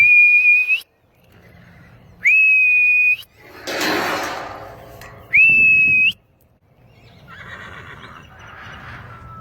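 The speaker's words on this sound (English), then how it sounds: "It is the first time Nugget came to my whistle." Three loud, steady whistle blasts, each about a second long, call a young quarter horse and alternate with its whinny and soft background noise.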